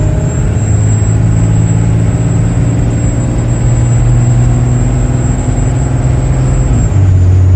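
A stock Cummins 12-valve diesel truck fitted with compound turbos pulls hard in second gear, its deep, loud engine drone steady and close with a rising turbo whistle above, climbing a slight uphill grade.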